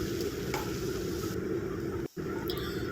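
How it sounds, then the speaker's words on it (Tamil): Sliced cassava fries in a pan and is stirred, giving a constant close sizzle with light scraping and stirring noise and one brief cut. "இப்போ நறுக்கி வச்சுருக்கிற மரவள்ளி கிழங்கை இது கூட சேர்த்து நல்லா கிளறி விட்டுக்கணும்."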